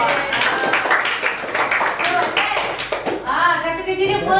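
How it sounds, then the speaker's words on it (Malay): A classroom applauds a student during a Malay-language practice lesson, with steady overlapping handclaps at close range. A voice is heard toward the end. "Okey, tepuk tangan untuk awak"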